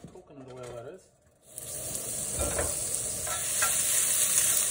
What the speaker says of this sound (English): Pop those in the air fryer.